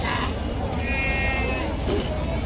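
Goats at the weekly Rajarampalli animal market bleat in a wavering call amid a dense, loud crowd murmur, with people talking nearby.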